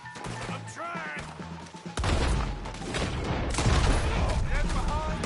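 A Red Dead Redemption shootout with rapid overlapping gunfire and crashing impacts, growing denser partway through, while game characters shout over the shots.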